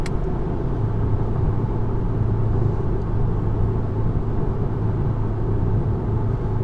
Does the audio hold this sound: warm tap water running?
no